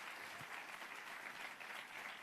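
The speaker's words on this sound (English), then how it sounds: "Let's give them all a round of applause." A crowd at a mayoral education speech applauds in a steady, even wash of clapping, heard from some distance and fairly quiet, with no talking over it.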